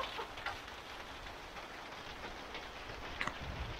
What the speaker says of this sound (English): Rain! Why? Rain break, rain break.